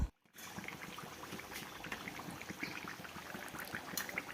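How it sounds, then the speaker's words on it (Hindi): Gujiya sizzle as they fry in hot oil, a steady close crackle and bubbling hiss with dense small pops throughout, after a brief quiet moment at the start. "बाद में फ्लेम को धीमा कर दीजिएगा और इसको सुनहला होने तक तलिएगा, उलट पलट के।"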